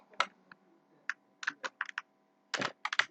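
Computer keyboard typing comes in quick clusters of crisp, close key clicks with short pauses between bursts, alone with no talk.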